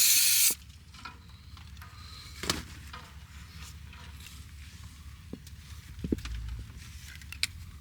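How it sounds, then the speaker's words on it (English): A short burst of brake cleaner spray hisses loudly at the start while work goes on around a Kubota wheel loader, followed by quieter clicks, taps and faint mechanical knocks. "Oh, this brake clean is terrible."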